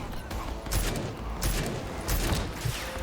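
Rapid pistol shots in the shooter game Rage 2, a few sharp cracks spaced about every second over a dense, noisy game background.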